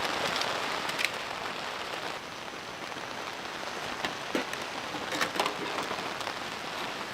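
Steady rain patters on a camping tent, a dense, even hiss of drops close by with occasional louder taps, continuing throughout without a break.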